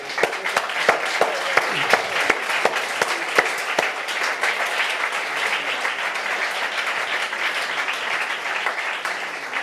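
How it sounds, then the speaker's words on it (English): Loud, close applause for families and soldiers at a ceremony, with crisp individual claps prominent early on, then blending into a sustained, even round of clapping from the crowd. "We've got to give these families a clap again,"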